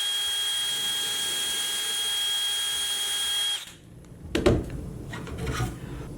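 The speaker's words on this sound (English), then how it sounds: "Now you can drill your hole." Power drill boring a dowel hole in wood through a JessEm doweling jig, a steady high whine for several seconds that stops abruptly, followed by clunks and rattling handling noises.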